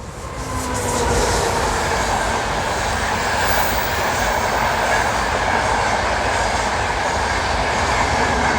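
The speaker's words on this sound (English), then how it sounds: "Excuse the train." A train passes close by outside near HMP Wandsworth in London, its rumble swelling in over the first second and then holding as a loud, continuous roar with a faint rhythmic clatter of wheels, and no voices.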